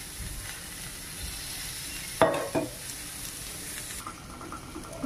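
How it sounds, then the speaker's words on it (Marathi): Onion frying in a little oil gives a quiet, steady sizzle with a couple of sharp clatters from stirring partway through, close and faint. "आता आपण कांदा भाजून घेऊ."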